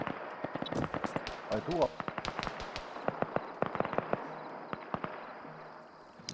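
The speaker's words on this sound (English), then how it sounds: "I think his rounds are going to be hitting the top of the bunker" Gunfire rounds in a PvP video game strike the top of a bunker as a rapid run of sharp, distant pops and cracks, firing almost continuously beneath steady commentary from a man.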